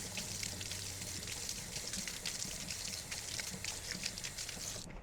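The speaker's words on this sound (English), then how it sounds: "So the first one is to wash asparagus thoroughly like this." Water runs from a tap while asparagus spears are washed in a kitchen, a faint, even hiss of flowing water lasting a few seconds with no speech.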